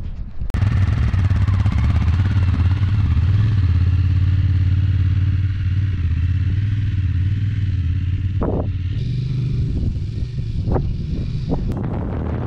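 A motorcycle engine rumbles steadily and loudly up close with wind buffeting, while sharp clattering knocks break in near the end; no one speaks.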